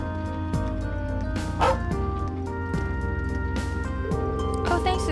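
Dog in The Legend of Heroes video game yipping and barking in short bursts over looping game music, with a voice talking alongside.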